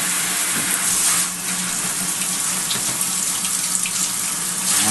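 Warm tap water runs steadily into a sink for rinsing a dog during an oatmeal shampoo bath, a continuous close splashing rush with no pauses and no talking.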